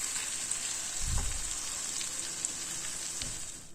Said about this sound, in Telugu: ఇలా వేసుకున్న తర్వాత 1 నిమిషం పాటు ఫ్రై చేసుకోవాలండి.